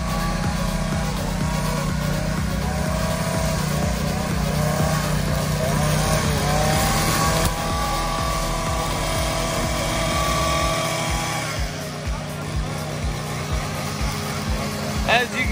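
A petrol string trimmer runs steadily, cutting drought-dried crispy lawn grass, with a continuous buzzing engine drone that dips near the end. People talk over it.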